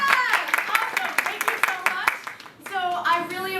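In a small live theater, a few hands clap in sharp, uneven bursts that trail off, with children's voices chattering among and after the claps.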